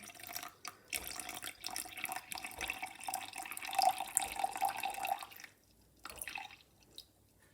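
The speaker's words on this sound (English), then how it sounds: "I'm just going to put in 80 ml of just water" Water pours from a tap or jug into a bowl of blended oats and egg, a soft splashing trickle in uneven bursts that stops briefly before a short final splash, close and fairly quiet.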